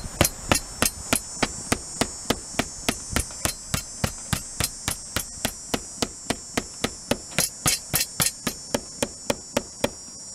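Steady knocking on a house roof while hunting for the rafter before mounting an HDTV antenna: around thirty sharp, evenly spaced taps in a brisk regular rhythm, close and clear with no talking.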